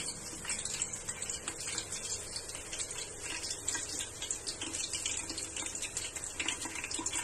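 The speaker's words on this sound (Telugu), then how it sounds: "ఇప్పుడు వేడి నూనెలో కొంచెం జీలకర్ర వేసుకుందాం." Cumin seeds sizzle in hot oil in a home kitchen while cooking a chicken roti dinner, a steady close crackling hiss with fine popping throughout, no talk.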